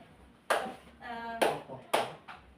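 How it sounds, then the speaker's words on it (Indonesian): Classroom clapping game 'tepuk motor': three sharp, separate hand claps spaced about half a second to a second apart, close and clear, with a humming voice sounding between the claps. "Contohnya ini namanya tepuk motor."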